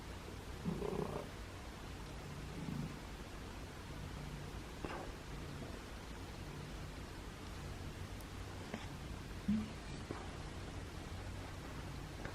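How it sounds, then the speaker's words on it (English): A recovering feral cat's soft, low purring rumbles steadily throughout, with a few faint rustles and small taps mixed in at a close distance. "He's purring."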